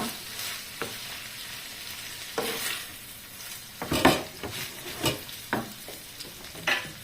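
An egg fries Taiwan style in a very hot pan, with a steady sizzle under repeated scraping and stirring strokes of a utensil against the pan, close by and with no voices.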